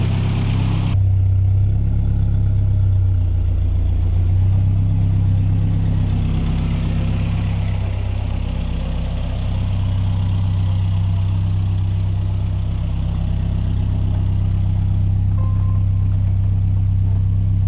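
A 1959 MGA 1600 roadster's engine runs at a steady idle, a deep continuous rumble heard up close and fairly loud, holding an even tone throughout with no voices.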